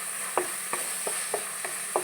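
Crushed shallots fry in hot oil for a stingray curry, giving a steady bright sizzle with soft, regular stirring scrapes about three times a second.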